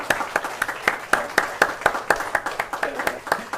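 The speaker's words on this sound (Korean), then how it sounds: "우리 큰 박수로 우리 한번 환영하겠습니다" A church congregation claps in a steady rhythm of sharp, distinct hand claps, fairly quiet and with no other sound on top.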